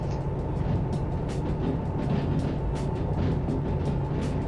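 A train rumbles steadily along the rails in the railway simulator game Derail Valley, a dense low mechanical roar with faint rhythmic clacking, continuous and close, with no talking.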